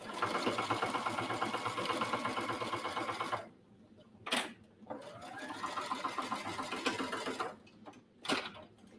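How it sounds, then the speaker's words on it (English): Sewing machine topstitching near the edge of a cross body bag, running in a loud, close, rapid mechanical whir for several seconds, then pausing with a couple of sharp clicks before resuming and stopping again. "Sewing maybe an 1/8 inch from the edge."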